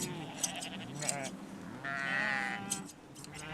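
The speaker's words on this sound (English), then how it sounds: "Sheep are gentle creatures with a thick skin." Sheep at a shearing in rural Scotland, gentle North Country animals, let out a few wavering bleats over steady background noise while a narrator speaks over them.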